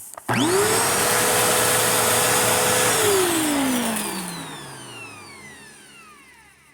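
A Bissell CleanView upright vacuum cleaner switches on with a rising whine, runs loud and steady for a few seconds, then powers down and its motor spins slowly to a stop, heard up close with no speech.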